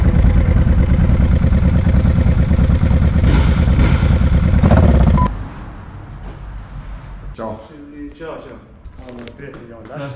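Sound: Benelli Leoncino 500 motorcycle engine

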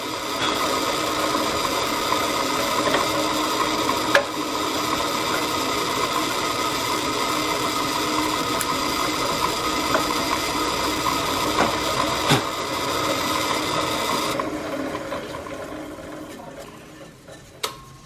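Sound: drilling a knife handle

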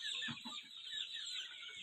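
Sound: chickens clucking on farm

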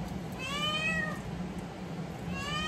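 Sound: cat meowing

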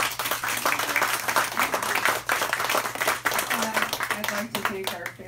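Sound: audience applause for the authors

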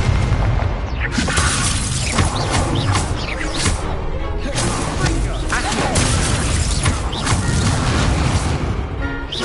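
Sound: Incendio fire spell cast, from a video game

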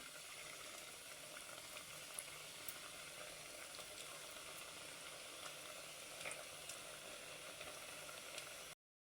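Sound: frying biscuits in oil on a low flame

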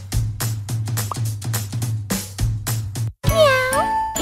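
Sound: cat meowing in a pet salon video game

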